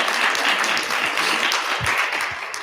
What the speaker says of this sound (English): Clap it up for confidence